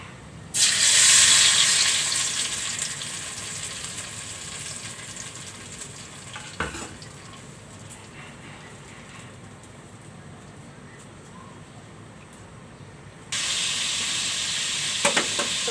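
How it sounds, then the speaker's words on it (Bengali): Spice paste for a chicken roast hits hot oil with a loud, bright sizzle that settles into a steady frying hiss, punctuated by a stirring clatter, then swells again louder near the end. "আমি যেখানে সব রকমের মশলা পেস্ট করে নিয়েছি তো এইগুলো আমি এখন দিয়ে দিচ্ছি"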